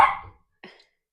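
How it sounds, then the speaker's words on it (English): Two sharp dog barks, the first loud and close, the second shorter and softer after a brief pause, with silence around them. "Sorry if you can hear her barking."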